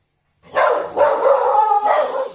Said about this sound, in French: Je vous présente mes chiens.